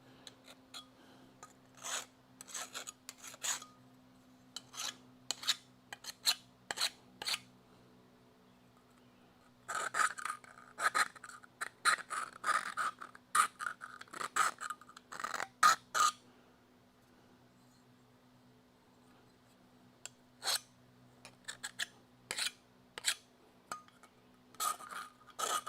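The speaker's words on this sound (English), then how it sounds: "Let me get the compound file and deburr this." A compound file rasps against the metal rear frame rail of a crew cab Charger, giving bursts of sharp scraping strokes, some in quick clusters, with pauses between, close up and fairly quiet against a steady background hum.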